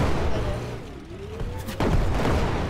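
A cannon in the video game LEGO Brick Rigs fires one sharp, loud boom, preceded by a rising whistle-like tone, over constant rumbling game noise.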